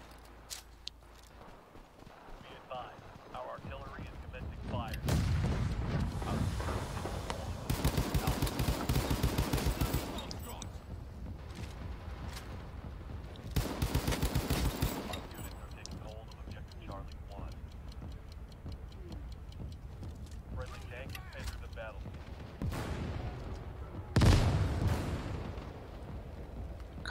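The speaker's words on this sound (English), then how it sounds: "Be advised, our artillery is commencing fire." Artillery fire in the video game World War 3, heavy booming bursts repeating across the stretch amid other battle noise and gunfire, with voices talking over it.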